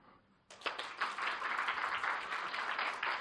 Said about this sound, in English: I want you to clap.